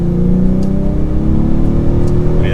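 A 2024 Ford Mustang EcoBoost with its turbocharged four-cylinder accelerating on a test drive, a loud, steady engine drone rising gradually in pitch from inside the cabin, with no voices.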